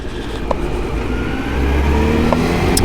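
A 2003 Honda CBR900RR 954 FireBlade engine pulls under throttle with a loud, steady drone that swells toward the end, heavy wind rush layered over it.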